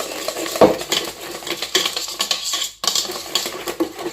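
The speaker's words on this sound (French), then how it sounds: "j'utilise mon fouet. De manière à bien incorporer les ingrédients." A whisk stirs pizza dough ingredients in a bowl, making rhythmic metallic clinks and scraping against the sides, fairly loud and close, with a brief pause near the end.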